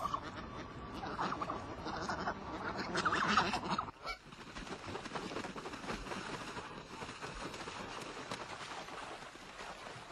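Geese honk repeatedly in a large flock of migratory birds resting on Öland, Sweden, loud and busy at first, then a softer, steadier chorus of calls after a brief drop, with no talking.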